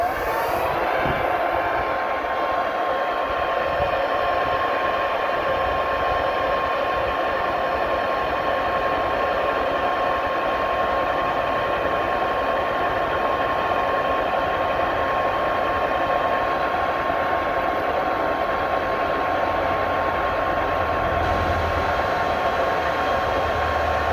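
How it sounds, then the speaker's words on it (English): A blower roars steadily as it drives sand out of an area rug, a loud, continuous rushing drone that barely changes over the whole stretch. "Here's your blower."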